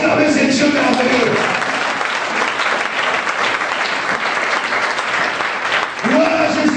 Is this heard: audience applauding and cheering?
yes